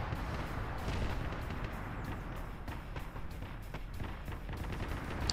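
Artillery barrage in the video game Arma, run by a Zeus game master: a dense, continuous rumble of distant booms with scattered sharper impacts landing throughout, steady and unbroken.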